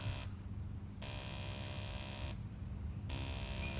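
A 5D cavitation machine head runs on mode 4, giving a faint, steady high-pitched electronic tone that cuts out twice for about a second each time over a constant low hum.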